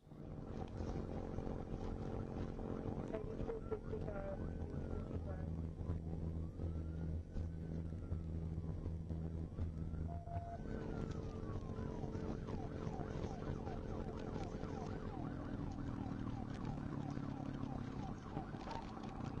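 A police car siren wails up and down repeatedly over a steady drone of engine and road noise during a pursuit, fairly prominent and continuous.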